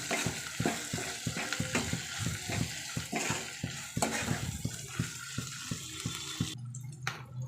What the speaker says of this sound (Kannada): ಒಂದೂವರೆ ಟೇಬಲ್ ಸ್ಪೂನ್ ಆಗೋಷ್ಟು ಶುಂಠಿ ಬೆಳ್ಳುಳ್ಳಿ ಪೇಸ್ಟು ನೀಟಾಗಿ ಫ್ರೈ ಮಾಡ್ಕೊಳ್ಳೋಣ